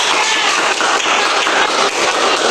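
Classmates applaud together in an elementary school science class, a dense, steady wash of clapping filling the room without any talking over it.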